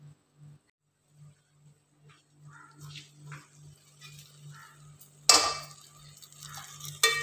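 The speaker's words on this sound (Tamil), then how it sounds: "கொஞ்சம் வதங்கினதும் தக்காளி சேர்த்துக்கிறேன்." Tomatoes sautéing with fried onions and ginger-garlic paste in a pan for biryani, with faint stirring and a low steady hum, then a sudden louder scrape and sizzle burst near the end.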